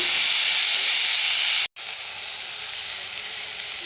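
Chilli powder and turmeric fry in a pan with a loud, steady hiss and sizzle that cuts out for an instant before resuming.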